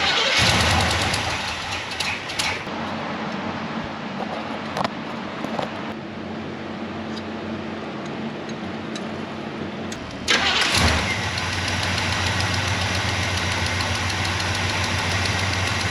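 A wrecker truck's engine cranks and fires, then settles into a steady, loud idle, with a second revving surge partway through before the idle continues evenly.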